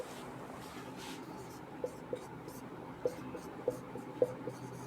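Faint scratchy strokes of writing during a physics lecture, with a handful of soft taps as the pen or chalk lands, all under a low room murmur.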